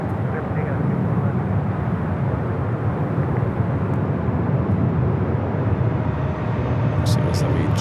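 A JetBlue Airbus A321 bound for Fort Lauderdale roars steadily at Los Angeles LAX airport, a broad sustained rumble that stays loud and even throughout with no pauses.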